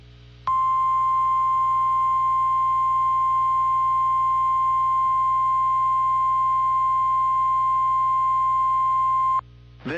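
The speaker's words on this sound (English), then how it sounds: "This is a test of the NOAA weather radio warning alarm." A single steady NOAA weather radio warning alarm test tone holds at one pitch for about nine seconds, loud and unbroken, over a faint low background hum, then cuts off abruptly.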